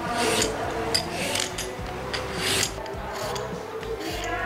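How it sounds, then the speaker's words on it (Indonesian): A cucumber being peeled for fish soup, giving a steady raspy scraping of a peeler across the skin, continuous and close with repeated strokes, no talking. "Sekarang aku mau kupas timun ya."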